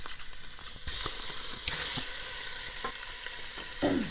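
Italian sausages hit a hot pan for sausage and kale soup and burst into a loud hiss, then keep sizzling, with a few clunks and scrapes of utensils in the pan close by and no talking.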